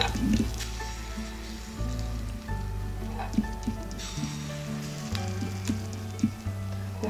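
Rava kara paniyaram batter sizzles in an oiled paniyaram pan, a steady soft crackle and hiss up close, with a few light taps and a low hum under it.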